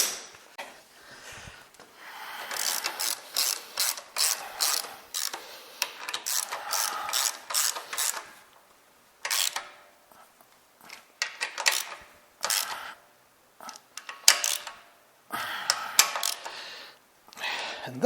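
A 3/8 ratchet snugging bolts on a John Deere 710 tractor, bursts of quick clicking pawl ratchets in repeated runs with short pauses, close and moderately loud.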